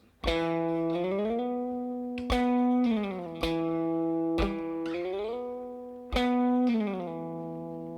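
Four plucked guitar notes, each sliding smoothly up or down in pitch to another note, ringing clearly and alone.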